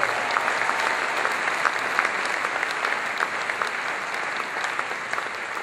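An audience at an award ceremony applauds steadily, with dense, even clapping that holds at a strong level throughout and fades slightly near the end.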